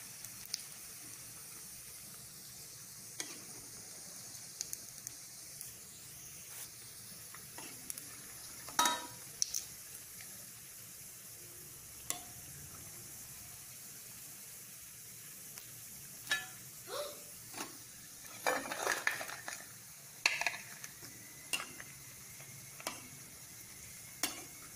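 Chicken pieces for pickle fry in oil with a soft, steady sizzle, broken by scattered clinks and stirring scrapes from a utensil in the pan, close and fairly quiet, with no talking.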